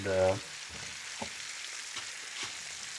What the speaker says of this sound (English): So I will leave that to sear as well for a while